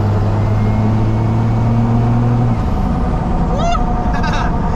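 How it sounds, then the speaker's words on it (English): A turbocharged car engine drones loudly under acceleration, then drops off into a sharp hissing blow-off valve release with quick fluttering chirps, close and continuous. "let's just rip her real quick. That turbo blow off"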